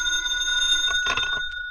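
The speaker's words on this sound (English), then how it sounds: "I was just turning off the light when the phone rang." A telephone rings in a hotel room at night, its bright bell-like tones sustained across the clip with a louder burst of ringing toward the end, fairly close and alone without talk.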